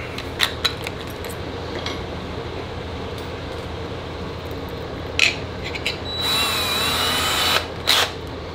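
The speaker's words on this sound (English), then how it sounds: "we're going to drill that out" A power drill whirs in a steady burst for a couple of seconds, drilling a hole in wood for a nail in a flintlock wiping stick, preceded by a few sharp clicks and light tool noises over a low background hum.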